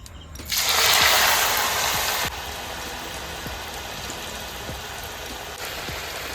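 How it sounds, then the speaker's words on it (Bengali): Shredded potatoes drop into hot oil, bursting into a loud, rushing sizzle for a couple of seconds that then settles into a softer, steady crackling fry with scattered pops. "আলুগুলো অল্প অল্প করে ভেজে নেব"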